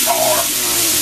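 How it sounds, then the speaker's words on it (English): Louisiana hot sauce hits a hot pan of charring sausage, a steady loud broadband sizzle lasting about a second with a brief higher hiss near the start. "I'm going to add a little Louisiana hot sauce."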